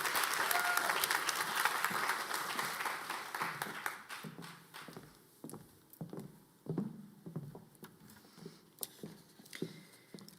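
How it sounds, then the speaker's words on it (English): Audience applause for award recipients at a spring 2021 respiratory therapy pinning ceremony: a full burst of clapping that gradually thins into scattered, uneven claps and faint murmurs from the crowd. "Give a hand clap for all of our special awards."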